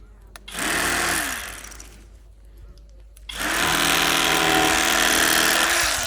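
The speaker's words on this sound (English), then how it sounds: "I'll do this with the electric knife" An electric knife slicing through catfish belly meat gives two buzzing motor bursts, a short one and then a longer sustained run, loud and close with no talk.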